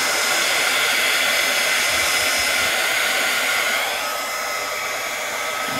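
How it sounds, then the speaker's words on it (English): A craft heat tool blows a steady, loud, whooshing stream of air across wet ink pigment on paper, a constant hairdryer-like roar that eases slightly near the end. "the water is running around on the page because the air is coming out of the heat tool"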